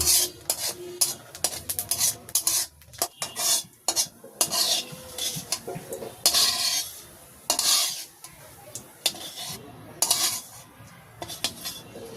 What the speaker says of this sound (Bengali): তেল দিয়ে দিচ্ছি কয়েকটা জিরা ভেজে রাখতেছি